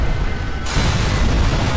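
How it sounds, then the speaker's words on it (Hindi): A loud explosion in the Sniper Elite 3 video game, set at the Pont du Fahs airfield, sounds as a sudden broadband blast that fills the whole clip with a sustained rumbling roar. "ये तगड़ा ही धमाका हुआ है"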